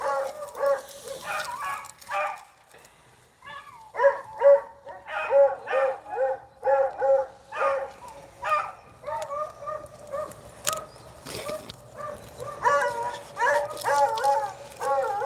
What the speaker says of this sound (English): It is a little noisy here with all these dogs